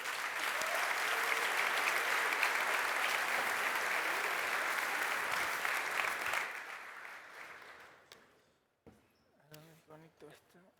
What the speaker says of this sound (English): give a big round of applause to Alvaró Videla.